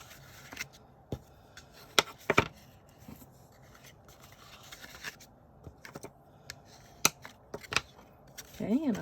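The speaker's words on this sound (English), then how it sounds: "now with my bone folder, I'm going to do some folding" Paper being folded and burnished with a bone folder while making a mini handbag treat box, heard as scattered crisp creases, taps and rubbing strokes close by, with some talking in the background.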